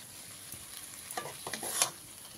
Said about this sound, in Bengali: আমি এবারে এর মধ্যে ভেজে রাখা আলুগুলো দিয়ে দিলাম।